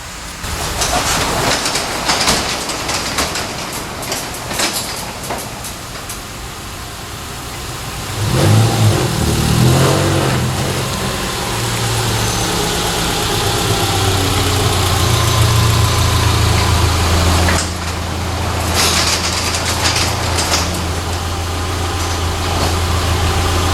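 A Subaru Impreza EJ25 engine with factory exhaust running loud and close, revving up around the middle before settling into a steady, low idle.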